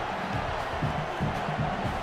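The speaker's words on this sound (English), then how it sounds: "Now this home crowd making life difficult" Home stadium crowd noise from a College Football 27 video game matchup, Notre Dame against UCLA: a continuous low roar with rhythmic chant-like swells, moderately loud and sustained throughout.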